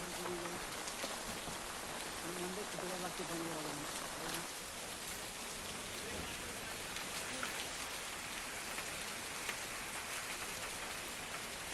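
Heavy cloudburst-like rain pours down steadily in a dense, continuous roar, with faint voices somewhere beneath it.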